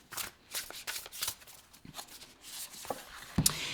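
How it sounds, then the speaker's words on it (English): Tarot cards are shuffled by hand in a quick series of papery riffles and soft slaps, close and fairly quiet, with a brief sharper tap near the end and no voice. "I didn't shuffle enough, so let me shuffle for you"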